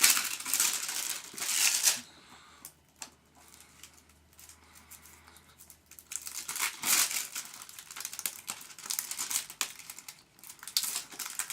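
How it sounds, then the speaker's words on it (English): Plastic wrap being torn and crinkled off a DVD case, with bursts of crackly rustling at the start and again midway, separated by quieter handling. "Tear this plastic off and get into it."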